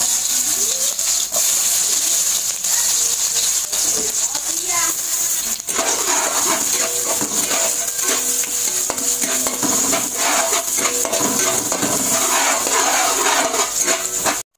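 Garlic and onion sautéing in a pan for ginataang pato (duck in coconut milk), a steady close sizzle with scraping stirs and occasional metallic clinks of a utensil against the pan, continuous throughout.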